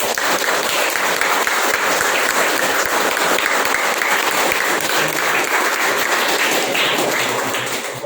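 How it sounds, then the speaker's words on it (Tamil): An audience at a motivational talk bursts into loud, sustained applause: a dense, even roar of many hands clapping that holds steady throughout and tapers slightly at the end. "கை எவ்வளவு வேகமா தட்டுறீங்க"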